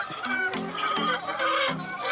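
A lame backyard chicken clucks repeatedly in short, throaty bursts, close by, with outdoor background noise throughout.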